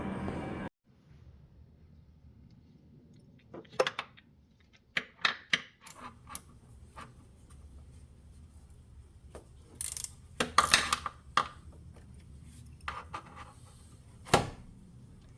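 An old drive belt being pulled off a Honda Civic EF engine: scattered close metallic clicks, scrapes and rubbery taps separated by quiet stretches.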